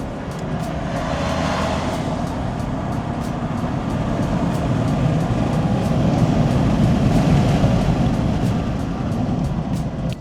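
A GWM Tank 700 hybrid SUV accelerates flat out in sport mode, a steady, loud low engine and road drone heard from inside the cabin that swells gently over ten seconds.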